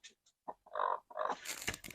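A free-range hen in a hobby flock, likely broody or near her eggs, giving a few short close clucks and then a louder, raspier drawn-out call, with no talk.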